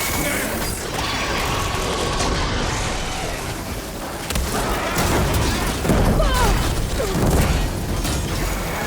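Robot machine enemies in Horizon Forbidden West clank and grind in combat, loud ratcheting mechanical whirs and thuds with bursts of impact noise throughout, under faint game voices.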